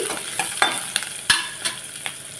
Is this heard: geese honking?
no